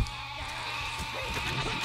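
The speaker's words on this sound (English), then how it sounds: "Kill the sheep!" Sheep bleat amid a steady, dense battle din in the Overlord video game, a continuous wash of sound with no clear separate calls.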